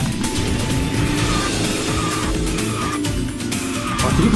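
Kart drifting in the KartRider racing game, the kart modelled on a 2007 limited-edition Hyundai Tuscani: a steady loud engine drone with gritty tire skid texture running throughout, no voices.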